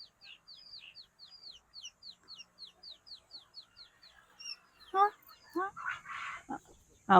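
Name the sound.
rooster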